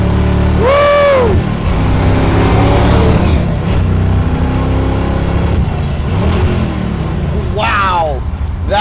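A 1969 Chevrolet Camaro RS/SS restomod with a 498ci engine accelerates hard, loud and close, its engine note sweeping up through the gears in two surging pulls, with excited shouting and talk from inside the car.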